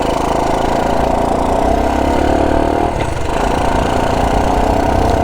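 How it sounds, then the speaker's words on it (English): A Honda CT90 motorcycle engine idles close by, then kicks into first gear and pulls away with a short rise in pitch. The steady small-engine hum runs the whole time with no talk. "No clutch here, so I'm just gonna kick up into first,"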